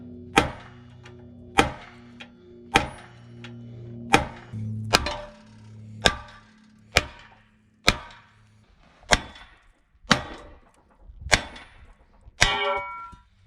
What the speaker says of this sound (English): All we gotta do is punch it out